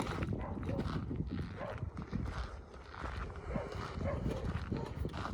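Horse hooves clip-clopping on a trail in the Grand Canyon on horseback, soft uneven thuds under rustling and faint voices.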